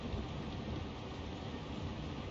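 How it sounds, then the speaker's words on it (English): A heavy rain downpour in the video game Tactics Ogre Reborn hisses steadily and densely throughout, a constant wash of falling water with low rumbling beneath and no voices. "Quite the downpour."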